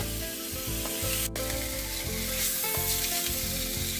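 Beef steak sizzling and frying in a pan for a cheddar-sauce steak dish, a steady crackling hiss throughout with a brief sharp spike near the middle and no talk.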